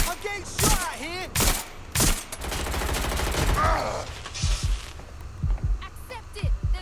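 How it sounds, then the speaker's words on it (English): Bursts of gunfire crack through a Watch Dogs Legion firefight, with sharp shots and rapid volleys repeating throughout alongside in-game voices and tonal game sounds. "I'm getting shot at here."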